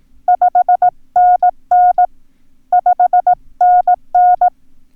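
Steady beeping Morse code sending 5NN at 18 words per minute, dots and dashes in one clear tone repeating the same short pattern twice, with no talking.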